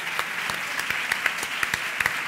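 Audience applause at a live cooking show event in Córdoba: steady, dense clapping from a crowd, with sharper individual claps standing out now and then, fairly close and without talk.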